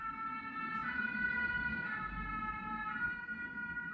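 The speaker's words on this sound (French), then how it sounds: "c'était la sirène qui nous confirmait qu'il fallait faire preuve de patience" A wailing emergency siren rises and falls in long sustained tones, moderately distant, over low road rumble from passing traffic, with no voices present.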